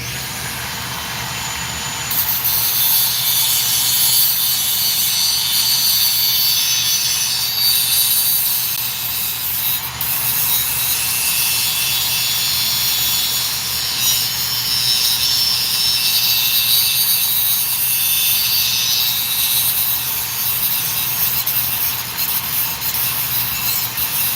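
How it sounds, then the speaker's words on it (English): A Dremel rotary tool grinds burrs off a modded 1x4 lid in a continuous high-pitched whine and rasp. The sound starts after a brief quieter moment and then runs loudly for over twenty seconds, rising and falling slightly as the pressure changes, with no talk. "I'm back with the Dremel to get the burrs out."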